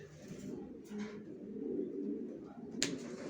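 Original racer pigeons coo softly in a low, throaty rumble that rolls on continuously at close range, with a couple of brief light clicks and no talking.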